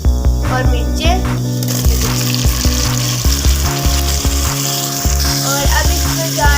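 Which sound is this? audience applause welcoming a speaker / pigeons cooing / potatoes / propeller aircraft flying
potatoes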